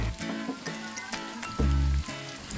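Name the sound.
frying crushed jengkol in oil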